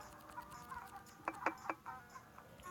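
Chickens in the Egg Inc mobile farming game give a few short, quick clucks in the middle of the clip over a low, busy game background.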